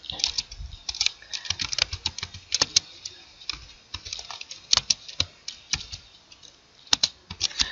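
Rapid, irregular typing on a computer keyboard, close and clear, with crisp key clicks in quick bursts and short pauses throughout.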